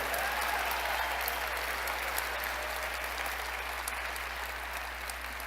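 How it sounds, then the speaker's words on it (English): Large crowd applauds at a Special Olympics winter games opening ceremony, a steady wash of distant clapping that holds evenly across the whole stretch and tapers slightly at the end. "that deserves a round of applause for sure"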